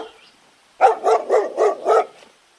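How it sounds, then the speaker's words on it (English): A dog barks five times in an even rhythm, each bark close and clear, with near silence before and after. "D for dog"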